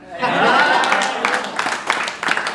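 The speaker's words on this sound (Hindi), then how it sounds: "छठी मेरी लाइन पे तालियां बजा देना" Audience applause at an open mic poetry show, a sustained burst of clapping that swells quickly and then thins out into scattered claps with a bit of chuckling.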